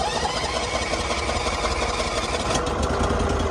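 An old tractor engine at an equipment auction runs roughly and steadily, a loud, close, uneven mechanical chug that carries on without a break.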